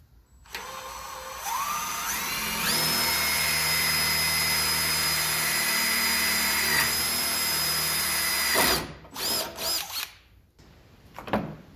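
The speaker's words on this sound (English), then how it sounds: "I'm gonna start with a 1/8 inch bit, and then we'll work our way up." A power drill fitted with a 1/8 inch bit bores into the tailgate of a 2013 Ford F150, a loud, steady whine that rises in pitch as it spins up, holds for several seconds, then ends with a few short bursts.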